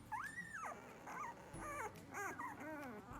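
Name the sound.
two-week-old puppies growling, barking and yelping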